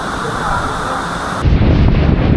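Strong wind and heavy rain on Boracay Island make a loud, dense roar that shifts abruptly partway through into a deeper, heavier rush.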